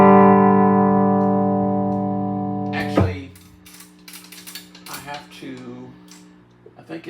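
A Montgomery Ward 62gvc-904a tube amplifier rings out a sustained, reverb-soaked tone that slowly decays before cutting off, followed by scattered clanks and taps as someone speaks.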